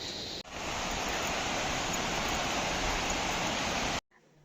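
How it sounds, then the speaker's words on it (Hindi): Loud, steady roar of a waterfall on the Madhyamaheshwar trek in Uttarakhand, a dense rushing hiss without a break, cutting off abruptly just before the end. "इस झरने की आवाज़ हमें दूर तक सुनाई दे रही थी"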